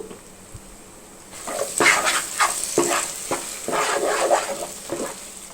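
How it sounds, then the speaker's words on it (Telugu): Spice paste frying in hot oil for an Andhra-style mutton keema fry, with a steady close sizzle and intermittent stirring scrapes that begin after a quiet second and carry on without talk. "పేస్ట్ మొత్తం కూడా ఈ ఆయిల్లో వేసేసుకొని ఒక్కసారి ఆయిల్లో ఫ్రై అవనిద్దాము"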